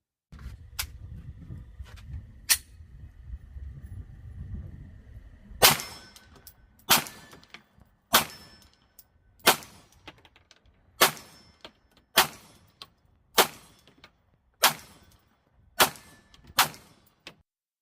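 Glock 19X pistol fired at a 25-yard steel plate, with about a dozen sharp, evenly spaced shots following a quieter stretch of background noise.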